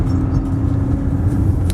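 A car rumbles steadily as it drives up onto the freeway, a low continuous engine and road drone heard from inside the cabin.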